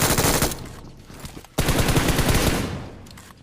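Rapid automatic gunfire in the mobile shooter BGMI, two dense bursts of loud shots separated by a brief pause, close and without talk.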